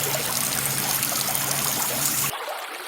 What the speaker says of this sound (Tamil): கால கையை கழுவிட்டு போவோம்.